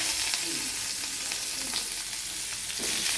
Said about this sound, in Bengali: পেঁয়াজটা ভাজবো